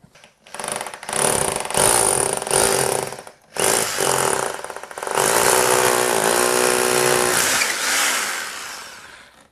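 A power drill bores through a house wall to pass a TV antenna cable, loud and continuous in long bursts with a short pause near the middle, running alone and close.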